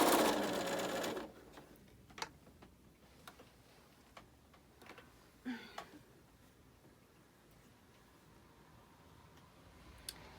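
A home sewing machine slowly stitches quilt block seams, with a brief loud whir at the start followed by sparse, quiet ticks and taps as the fabric is guided along.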